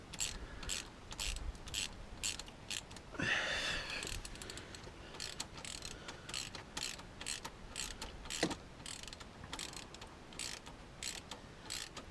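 A hand ratchet with a 10mm socket clicks steadily and quickly on a bolt under a Ford Transit Custom 2.2, quiet and close, with a brief metallic rattle partway through.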